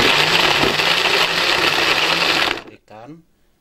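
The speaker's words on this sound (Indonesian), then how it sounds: "Nyalakan blender" A kitchen blender grinds Indonesian spice paste with candlenuts, water and salt, roaring loud and steady up close for about two and a half seconds before cutting off, followed by a brief winding-down whir.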